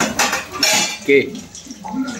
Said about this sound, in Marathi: आता बारकी बहीण भांडी घासते